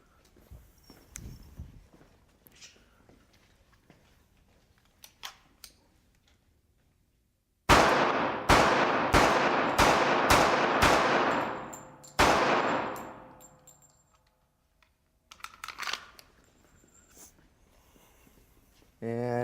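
Six loud, sharp .45 pistol shots fired in quick succession into a civilian ballistic vest, then a seventh after a short pause, preceded and followed by quieter outdoor handling noise and brief talk.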